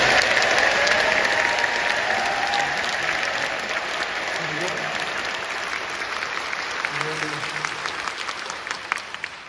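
Sustained audience applause fills a concert hall at the curtain call for the National Chorus of Korea after Mozart's Requiem, dense steady clapping with a faint voice over it near the start.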